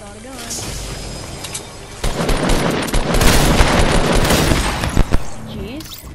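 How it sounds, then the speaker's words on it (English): Heavy shotgun fire in a video game, opening quietly before a dense barrage of loud, rapid blasts and booms that crowds the middle stretch and then trails off into scattered shots. "Thank goodness for heavy shotguns, man."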